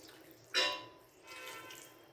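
A little water is poured into a pan of masala fish curry, making a brief soft splash and then a fainter, short stream, quiet and close.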